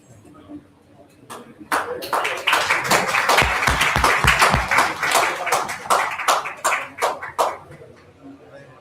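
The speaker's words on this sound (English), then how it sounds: "Please congratulate sir with a huge round of applause" An audience at a physiotherapy conference award ceremony bursts into applause that swells quickly, holds loud and dense for several seconds, then thins into scattered claps.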